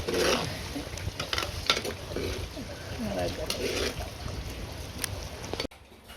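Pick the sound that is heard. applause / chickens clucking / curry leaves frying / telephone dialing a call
curry leaves frying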